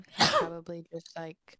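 A single sharp sneeze bursts out near the start, followed by a person speaking briefly during a tabletop roleplaying session.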